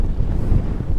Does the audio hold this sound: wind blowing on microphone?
yes